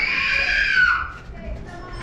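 Someone shrieks on an amusement park ride, a long high scream that fades out, with nearby voices talking afterward.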